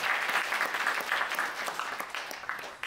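An audience at a lecture applauds in a brief, steady burst of close clapping that softens slightly toward the end.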